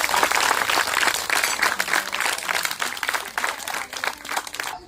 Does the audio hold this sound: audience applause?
yes